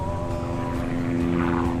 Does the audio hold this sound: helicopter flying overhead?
yes